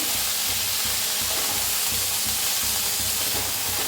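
Basmati rice with spices and salt roasting in a pan for masale bhaat, giving a steady broadband sizzle with a rapid, rhythmic low scraping pulse throughout, close and continuous with no talk.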